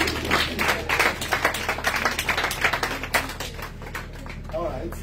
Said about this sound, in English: Would you like to clap for the